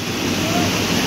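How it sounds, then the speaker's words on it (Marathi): Small stream of water running down stone steps at Kanheri Caves in Borivali's national park during rain, a steady broadband rush filling the whole moment, near and continuous with no talk over it. "तिकडे बघा वरती पायऱ्यांवरून पाणी येतं छोट्या"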